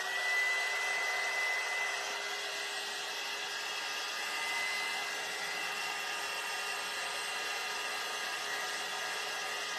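A hair dryer blows steadily on a still-damp craft piece, a continuous close whooshing hum with a faint tonal whine that holds nearly constant throughout.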